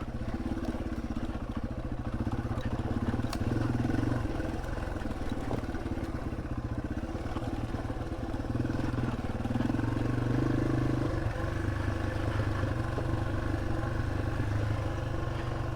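A Yamaha TW motorcycle putters slowly along a rough Ozarks trail, its low engine note steady and muffled with faint clatter, wind noise and no talking.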